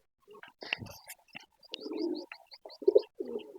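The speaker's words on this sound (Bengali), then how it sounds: "ওই দেখেন কবুতর কোন থেকে চলে আসছে" Soft, low pigeon coos repeat in a few short phrases, close by and fairly quiet, with a little chirping around them.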